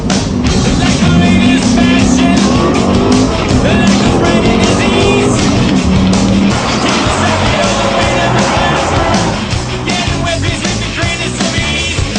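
A car launches from about 2200 RPM, its loud close engine note rising in pitch as power is fed in, then settling into a lower steady drone. Loud music with singing plays over it the whole time.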